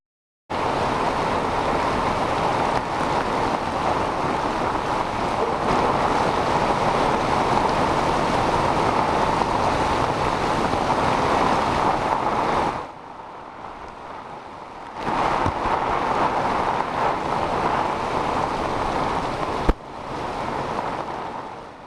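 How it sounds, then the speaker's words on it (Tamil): Strong Cyclone Fengal winds with heavy rain roar as a loud, continuous wash of noise, briefly dropping off twice before surging back. "கனமழையுடன் பலத்த காற்று வீசியதால் மரங்கள் வேரோடு சாய்ந்துள்ளன"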